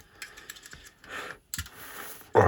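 A few short hissing sprays of cleaner from a pump bottle onto a switch of a 1970 Electro-Harmonix Triangle Big Muff pedal, separated by pauses, close by, ending with a louder thump.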